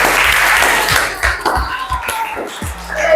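Students applaud in a classroom training session, a burst of scattered, uneven claps close by that thins into a few separate hand claps, with some faint voices mixed in.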